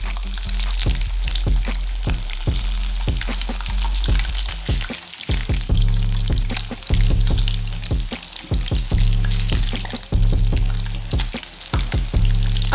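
Masala fish, Lahori style, fries in a pan over a low flame with a loud, continuous sizzle and crackle, dense popping bursts throughout and a brief dip midway, close up with no talking.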